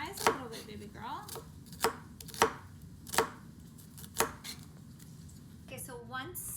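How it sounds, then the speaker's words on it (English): Onions being chopped with a knife on a cutting board in a home kitchen, sharp irregular thuds of the blade striking wood, close and clear with faint background noise. "we're gonna start by chopping up some onions"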